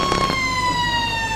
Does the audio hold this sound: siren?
yes